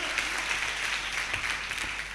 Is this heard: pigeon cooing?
no